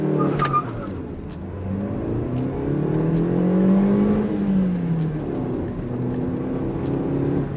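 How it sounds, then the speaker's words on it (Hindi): A Maruti Suzuki Baleno's 1.2-litre petrol engine revs up to 5000 rpm, a sustained, loud engine note that climbs, holds and then eases back down, heard alone without talk. "मैं आपको एक बार लॉन्च करके यहाँ पर दिखा देता हूँ। रैविंग टिल 5000 आरपीएम,"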